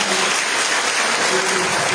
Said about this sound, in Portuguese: Vamos aplaudir a Deus pela vida do pastor Orlando